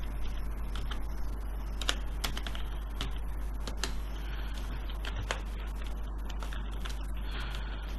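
Dates being typed into an Excel spreadsheet on a computer keyboard: irregular, close key clicks in short bursts with brief pauses, steady and moderately quiet, no voices.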